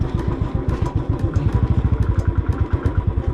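A motorcycle engine runs at steady speed on a mountain road near Lakeside, its loud rapid thumping exhaust pulses continuous and close, with clattering mechanical noise throughout.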